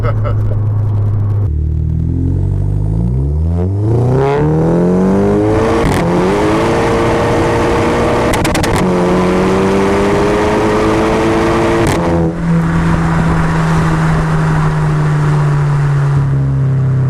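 Modified 350 bhp VW Golf MK5 GTI driving, its engine droning loud and close with rising pitch sweeps as it accelerates through the gears, easing off between pulls, with people talking over it inside the car.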